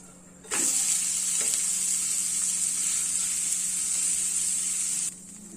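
Uthappam fries in ghee on a hot pan, giving a steady, loud, close sizzle that starts abruptly and holds for several seconds before cutting off, with no talk.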